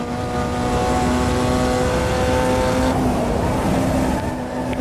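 A Formula Junior race car in Automobilista 2 holds a loud, steady, buzzing engine note under acceleration, with a rising whine that shifts near the end and no voices.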